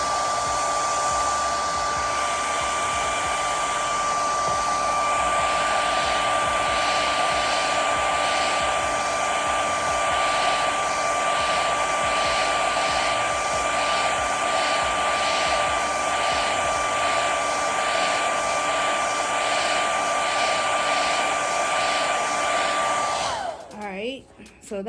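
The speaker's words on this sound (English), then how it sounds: "take your blow dryer, and what I just do is I blow dry it on warm high" A hair dryer set to warm high blows continuously at high speed, a loud steady whirring hiss with a wavering airflow tone, then switches off at the end.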